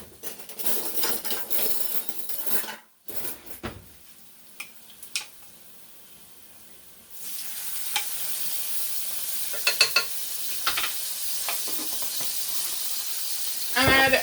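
Garlic added to softened onions and frying in a pan for a chicken tinga taco casserole, first with stirring scrapes and clatter, then settling into a steady close sizzle with small pops.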